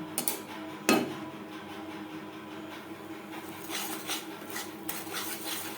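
A spoon stirs sugar and a little water in a pan over a low gas flame while making caramel for misti doi. One sharp metallic knock is followed by soft, intermittent scraping and clinking, close and fairly quiet.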